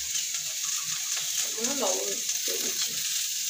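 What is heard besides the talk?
soybean chunks and potatoes frying in oil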